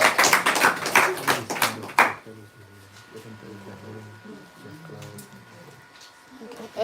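A school audience applauds together in a burst of dense clapping lasting about two seconds, then the room goes quiet apart from faint murmuring.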